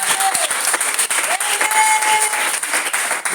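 A church congregation applauds steadily throughout, a dense, continuous wash of clapping from a large crowd, with a few faint cheers rising above it.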